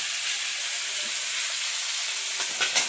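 Koi fish frying in oil makes a steady, moderately loud sizzle throughout, with a few louder spits and pops near the end.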